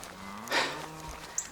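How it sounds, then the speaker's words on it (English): A single cow moos briefly at a distance on a rural hiking trail, a faint low call rising out of quiet outdoor ambience. "That's why you hear some cows in the background."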